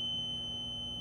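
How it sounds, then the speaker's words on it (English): A CNC stand-alone controller (DDCS V3.1) emitting a steady, continuous electronic beep after hitting an axis limit, a single unbroken tone at moderate level with no talking. "you can hear it beeping in the background"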